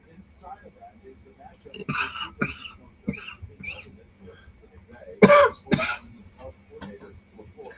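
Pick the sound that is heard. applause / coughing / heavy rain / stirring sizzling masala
coughing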